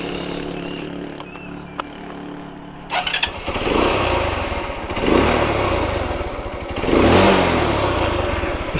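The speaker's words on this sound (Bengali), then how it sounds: "এই বাইকের সাউন্ডটা চলুন আপনাদেরকে একটু চেক করাই" A Runner Turbo 125 motorcycle cranks and fires after a few clicks, then settles into a loud, close idle that swells twice with throttle blips.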